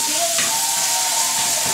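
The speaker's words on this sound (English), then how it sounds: "I have a pound of sausage, ground sausage, that I'm frying up" Steady sizzling hiss of ground sausage frying in a pan, with a faint whistle-like tone running through and a few soft clinks.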